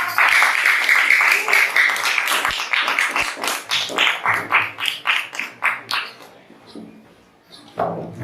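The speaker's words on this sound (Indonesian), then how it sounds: "Oke, kembali ke tempat duduk, tepuk tangan untuk" Students in a school classroom clap together, a loud burst of overlapping hand claps that thins into scattered individual claps and fades out, with a brief noise at the end.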